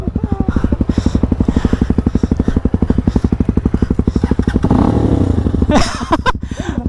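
A KRY200 motorcycle with a loose, detached exhaust runs loud and close, its engine pulsing in a rapid, steady beat that briefly swells, then settles back with some clatter near the end.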